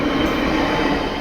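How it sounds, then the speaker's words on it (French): A train passing close by at a level crossing, a loud continuous roar of wheels and carriages filling the whole moment with no talk. "Voilà, le train il est là."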